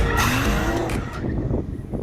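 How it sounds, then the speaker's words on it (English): Rear-wheel-drive Mercedes SLR McLaren and Aston Martin DBS doing tyre-warming skids, a loud close screech of spinning tyres over revving engines, sustained for about two seconds. "Now, as this Mercedes McLaren and the DBS are both rear-wheel drive, we do need to warm up the tyres, which means skids!"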